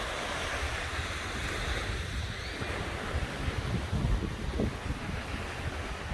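Surf washes steadily onto a Cancun beach in a continuous broad roar, with wind buffeting the microphone throughout.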